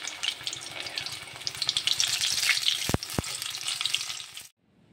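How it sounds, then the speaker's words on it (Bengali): Khir-filled mung puli fry in hot oil, turned until browned. The close, crackling sizzle runs continuously with two sharp utensil knocks partway through, then cuts off abruptly near the end. "এরকম করে উল্টে পাল্টে বাদামি করে ভেজে নেবেন।"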